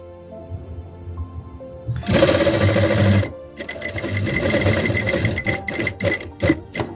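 A sewing machine stitches a jalabiya seam along a guide thread, running loud and close in a steady whirring burst after a quiet start, pausing briefly, then stitching again in short bursts.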